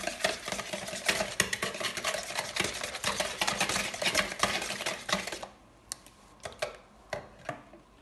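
Eggs and sugar are stirred briskly in a bowl, a fast, continuous clatter of utensil against the bowl that stops abruptly, followed by a few scattered taps.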